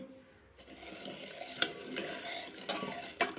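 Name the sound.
stirring pepper powder into melted jaggery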